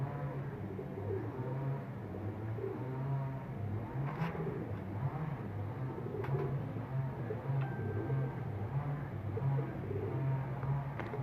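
An Imamdeen breed pigeon coos in low, repeated throaty pulses, steady under a continuous background hum of passing traffic.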